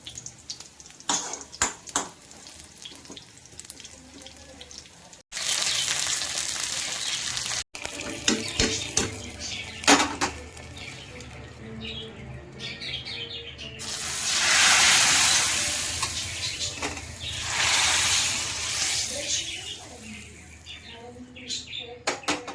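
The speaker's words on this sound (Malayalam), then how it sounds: "ഇങ്ങനെ നമ്മൾ സാമ്പാറിൽ താളിച്ചൊഴിച്ചിട്ടുണ്ട് വറുത്തൊഴിച്ചു" Hot tempering with curry leaves is poured into sambar with a loud hissing sizzle that swells and then fades, after a stretch of clanking. Nobody speaks.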